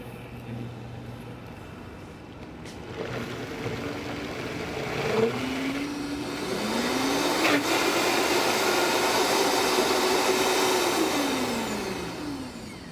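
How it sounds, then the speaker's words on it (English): Countertop blender whirring on low speed while blending a vegan mix, a steady motor hum that rises and swells with shifting pitch over several seconds, fairly quiet, no voices. "Let's go ahead and start blending. I would start on low at first"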